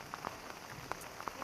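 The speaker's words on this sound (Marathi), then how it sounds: "पाऊस पडतोय ना खूप" Heavy rain pours outdoors on a monsoon trek to Sri Malanggad, a steady hiss with scattered close drops pattering on a surface, no voices.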